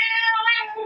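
A single cat gives one clear, close meow with a rising then falling tone, loud and alone, in a home during a yoga session.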